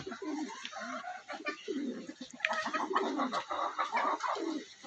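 Chickens cluck and murmur close by, a restless stream of soft calls with occasional coos, fairly quiet overall.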